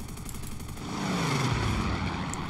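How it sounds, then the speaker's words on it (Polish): Propeller warplane engine in an aerial combat video game, a droning buzz that swells and passes by within a few seconds, steady and fairly loud without talk. "A dobra, to był nasz samolot inbound"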